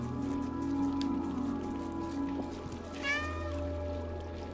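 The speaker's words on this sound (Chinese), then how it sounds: "还可以有个按键是可以让这只小猫叫，喵喵喵" A cat meows in the video game Stray, one clear rising-and-falling meow near the end over a steady bed of rain patter and low ambient game sound, with no talking.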